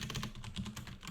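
A short burst of rapid keystrokes on a computer keyboard, close and fairly quiet, with clicks in quick, uneven succession and no talking.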